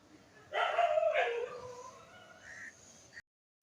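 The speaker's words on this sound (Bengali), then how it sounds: "কুকুর ডাকছে বলে কেমন করছে ওরা" One dog gives a short burst of barking, a sharp yelping volley lasting about a second. A fainter trailing call follows before the sound drops to near silence.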